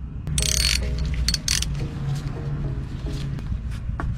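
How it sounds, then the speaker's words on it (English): A ratchet wrench works 10mm bolts loose from a vehicle's transmission filter, giving quick repeated clicking pawl strokes in short bursts with small metallic clanks, close up and clear. "To remove the transmission filter, it is holding on by 4 10mm bolts."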